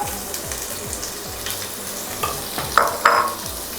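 Mutton frying in ghee with cinnamon, cloves and cardamom sizzles steadily up close, with a spoon scraping through the pan in a regular stirring rhythm and a few louder crackles near the end; no one speaks.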